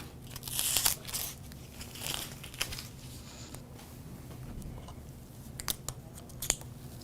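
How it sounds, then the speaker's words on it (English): Stencil and masking tape peeled off etched glass, heard up close as scattered crinkling, tearing rips and crunchy crackles, with a few louder bursts among quieter handling noises and no talking. "now all we need to do is remove all of the stencil and any masking tape"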